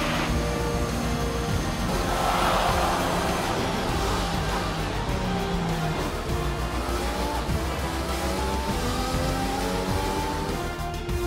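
Formula 1 race car in the F1 2021 video game at the Bahrain Grand Prix, a loud continuous high-revving engine whine with shifting pitch and faint tire noise, steady and close throughout.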